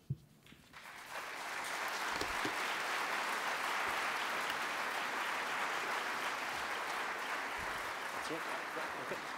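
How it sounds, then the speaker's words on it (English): Audience applause after a debate fills the room, a dense, steady clapping that rises quickly and stays loud and sustained to the end. "Well, please, folks, final round of applause for both Mr. Christopher Hitchens and Mr. Larry Taunt"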